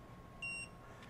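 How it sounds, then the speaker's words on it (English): A MATCO electronic torque wrench gives one short, clean high-pitched beep on reaching its set value, brief and fairly faint against a quiet workshop background, with no talking. "we heard an audible chirp or audible beep"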